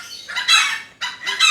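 Chickens clucking and a rooster crowing nearby in loud, harsh repeated calls, two main bursts with a brief gap between them.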